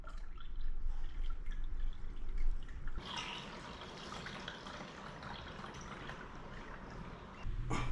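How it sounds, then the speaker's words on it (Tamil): Water poured back into a home aquarium tank, a steady splashing trickle that starts loud and continues as a constant filling rush near the container. "இப்போ நான் திருப்பி தண்ணி ஊற்றுறேன்."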